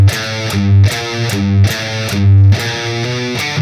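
The main riff plays on a distorted electric guitar with open notes, a loud, tight and repeating figure of chugging low notes and accented bursts in a steady rhythm, with no voice over it.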